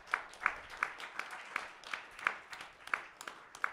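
Rhythmic clapping at a steady pace, fairly quiet and distant, sounding like a small crowd keeping time rather than a big burst of applause.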